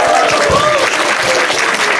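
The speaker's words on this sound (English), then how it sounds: "Can we have a round of applause for Varun and Ashok?" Steady, loud applause fills a stand-up comedy venue as the crowd claps continuously for two performers, with a few faint voices mixed in.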